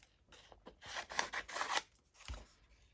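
Scissors snip out paper pieces for a junk journal, a close, quiet series of crisp cuts and rustling paper slides, several quick strokes clustered in the middle with a soft thud near the end.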